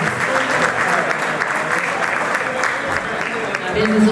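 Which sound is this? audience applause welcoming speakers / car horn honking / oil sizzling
audience applause welcoming speakers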